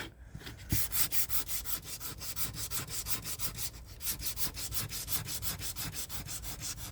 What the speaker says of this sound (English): When you sand it, it does smooth it out.